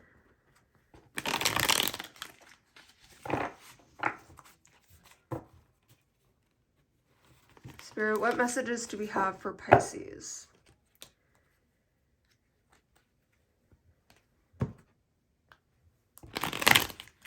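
Tarot cards shuffle in several loud riffling bursts, close by and quiet in between, with a person speaking briefly between the shuffles.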